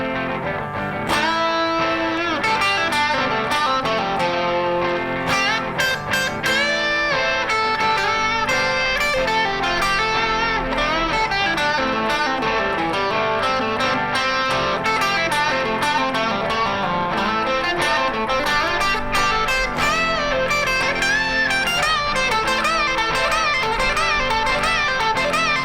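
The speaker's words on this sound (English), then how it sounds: "we're going to be looking at the super famous guitar solo and it sounds like this" Electric guitar playing a guitar solo over a backing track, dense continuous lead lines with drums and band, loud and steady throughout.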